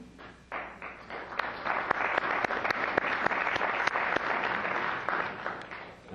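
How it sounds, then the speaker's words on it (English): Applause breaks out at a city council meeting in Coquitlam, a sustained round of many hands clapping with sharp individual claps poking through, steady at moderate loudness for several seconds before easing. "it's completely against our procedures to clap during a council meeting"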